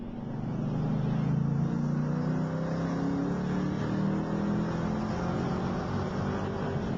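A Ford Falcon GTHO Phase 4's factory race engine drones steadily and loudly at high revs throughout, its pitch rising and falling slightly as it holds at speed, with no voices.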